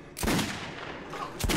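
Gunshots in the video game Metro Redux, a couple of loud close blasts with a sustained roar between them, short and punchy with no talk.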